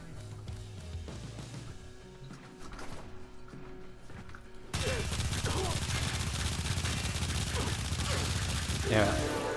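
Rapid, dense gunfire from Incarnon weapons in Warframe, a continuous crackling barrage that jumps suddenly louder halfway through, with game effects layered over it.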